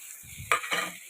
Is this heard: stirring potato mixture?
yes